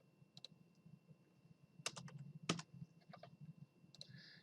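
Computer keyboard being typed on during CAD drawing work gives scattered, close clicks in short bursts, with a few sharper key presses between quiet gaps.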